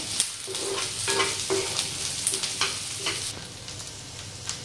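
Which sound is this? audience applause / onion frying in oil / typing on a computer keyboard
onion frying in oil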